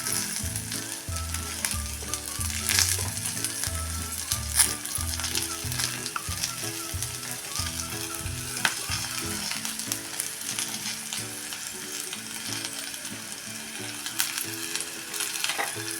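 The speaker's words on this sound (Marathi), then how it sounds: "हा मसालाचा थोडा वेळ तेलात परतून घेऊया" Ground masala fries in oil with okra in a Maharashtrian home kitchen, giving a continuous close sizzle with occasional scraping stirs over low, steady humming tones, and no talk.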